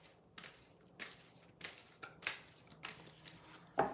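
A deck of tarot cards being cut, six or seven quiet, crisp card slaps and riffles spaced about half a second apart, close and soft with no talking.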